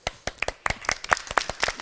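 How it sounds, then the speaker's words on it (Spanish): Scattered hand claps from an audience at a science talk, a short burst of a few distinct, close claps with uneven rhythm rather than a full ovation. "recibámoslo con un fuerte aplauso"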